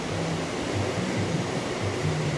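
Ocean waves and wind on a beach, a steady broad wash of surf and breeze with gentle swells, close and continuous with no talking.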